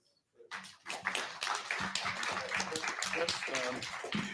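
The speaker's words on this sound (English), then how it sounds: "I think we should give all Peace Corps volunteers a hand of applause" Audience at a Washington, D.C. forum on Liberia's 2017 presidential election applauds Peace Corps volunteers, steady, fairly close clapping that rises from silence after half a second and continues throughout.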